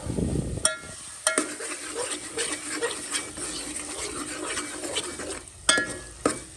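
Kathiyawadi olo of mashed eggplant being stirred into masala in a pan, with soft scraping and squelching strokes under a low sizzle, broken by a few sharp clinks of utensil on metal, close and without talk.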